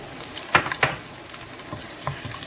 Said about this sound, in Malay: kita masukkan leek ni semua. Okay, goreng sampai dia garing, fry until crisp.